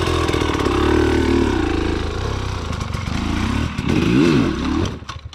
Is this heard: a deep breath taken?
no